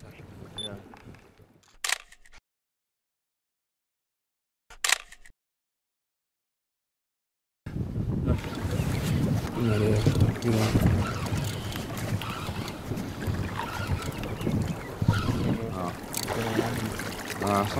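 Strong wind buffets and rumbles steadily against a microphone on a boat while fishing in Zimbabwe, loud and continuous, after a few seconds of near silence broken by brief clicks.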